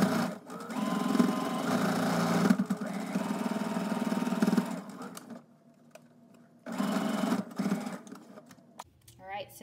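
A sewing machine top-stitches along the bottom edge of a fabric mask, running loud and steady in two long bursts with a short quiet pause between them and no talking.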